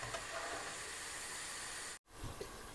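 Herbal hair oil cooks in a pan on a low flame, giving a steady, even sizzling hiss up close that cuts out for a moment before resuming.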